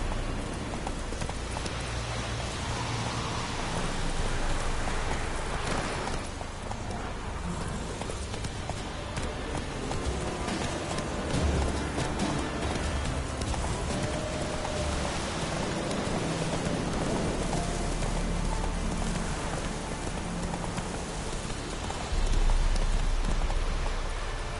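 Roach the horse galloping in The Witcher-style game, a continuous rapid clip-clop of hooves mixed with a rain-like hiss, steady and loud for the whole stretch.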